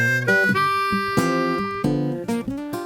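A harmonica plays a short blues lick, a quick run of bending draw and blow notes, several distinct tones in an uneven rhythm, close and clear with no voices.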